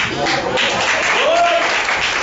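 A church congregation applauds loudly and steadily in a large hall, a dense wash of clapping with a faint tonal voice or hum drifting above it.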